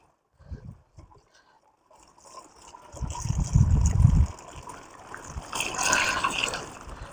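Water is poured into an agricultural spray tank, a gurgling, splashing fill that starts after a few faint knocks and grows louder in two surges.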